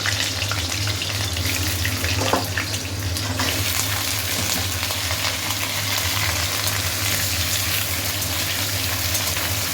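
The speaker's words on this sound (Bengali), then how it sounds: "আলুগুলো আগে ভাজা হবে" Steady, dense sizzling of food frying in hot oil, continuous and close, with a faint clatter near the start and no voices.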